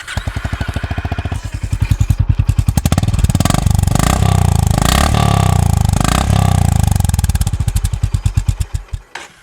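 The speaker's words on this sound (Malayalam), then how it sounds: "നമുക്കപ്പോൾ ഇനി ഇതിൻ്റെ എക്സോസ്റ്റ് നോട്ടും കൂടെ ഒന്ന് ചെക്ക് ചെയ്ത് നോക്കാം." Honda CB 350 RS motorcycle exhaust note, a loud close thumping single-cylinder beat that rises in revs through the middle and falls back to a loping idle, heard alone.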